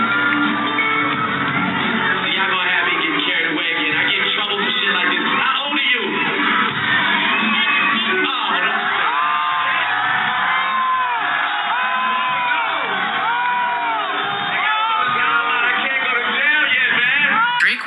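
A packed crowd at a 2010 concert whoops, yells and cheers continuously and loudly throughout, with voices shouting over a dense roar of the audience.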